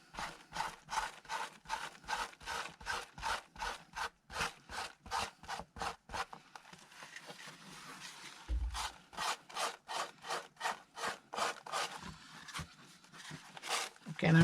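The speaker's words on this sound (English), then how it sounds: "now I'm just going to grab my sandpaper and see if I can" Sandpaper rubs back and forth across an indigo-covered journal in quick, steady strokes, close and fairly quiet, with a short pause midway before the rhythmic scratching resumes.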